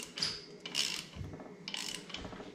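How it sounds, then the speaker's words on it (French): Bolts on a motorcycle carburetor being tightened by hand in a cross pattern, giving close, quiet ratcheting and metallic clicks in short bursts with scraping between them. "On passe au carbu en croix."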